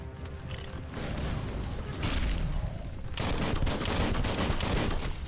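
Continuous rapid gunfire from a weapon in the open-world action game Biomutant, dense automatic bursts sounding steadily and loudly with mechanical clatter, with a heavier, louder stretch in the second half.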